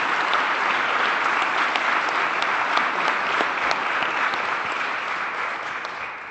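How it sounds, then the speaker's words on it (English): A warm round of audience applause for a panel at a real estate industry discussion, thick continuous clapping that holds strong and then begins to taper slightly toward the end. "Let's give a warm round of applause for our fantastic panel."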